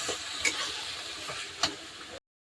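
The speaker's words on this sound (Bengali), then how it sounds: "ভালো করে নেড়ে নেবো।" Taro leaves cooked with a hilsa fish head being stirred in a pan, with a soft, moderately quiet sizzle and two brief scraping strokes before the sound cuts off abruptly.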